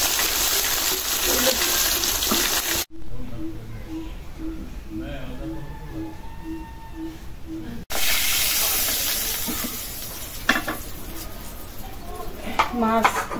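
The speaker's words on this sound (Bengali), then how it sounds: "কড়াইতে কত তেল ফুটে গেল," Fish fries in hot oil in a wok, a sustained hissing sizzle that breaks off briefly and then returns, with people talking intermittently over the cooking.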